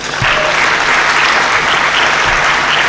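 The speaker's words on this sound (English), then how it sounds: "with a round of applause, let's welcome the Dean of the School of Graduate Studies, Professor Samuel Entry." A large audience applauds steadily and loudly, a dense wash of clapping that holds at an even level throughout, welcoming the Dean of the School of Graduate Studies at a university evening event.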